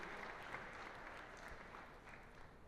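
Quiet, steady applause rises from an audience at an FTC robotics qualifier for the finalist alliance, a continuous patter of clapping at a modest, even level.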